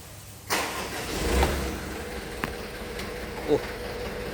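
A manual-transmission car sitting in neutral has its engine cranked and started, giving a broadband surge that settles into a steady running hum with a few small knocks. No one talks.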